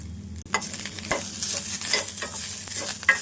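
Idli fry being stirred in a pan with chili powder and coriander powder: repeated scraping strokes of a spoon against the pan over a constant close sizzle, loud and rhythmic, with no talking.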